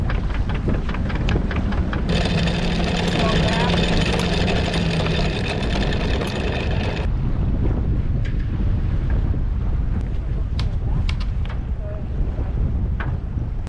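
Sailboat cutting through water at nearly seven knots in strong wind, with steady loud wind buffeting and rushing water throughout, a brighter gust of noise partway through.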